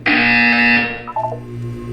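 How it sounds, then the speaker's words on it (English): A loud electronic buzzer from the game Portal 2 blares for most of a second, then decays into a brief trailing tone and a quieter hum. "You will hear a buzzer."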